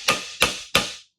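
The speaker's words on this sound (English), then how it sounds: "Another little tap on the yoke." Three sharp metallic hammer taps on a Jeep axle yoke in a garage, evenly spaced and close, each with a brief ringing decay before silence.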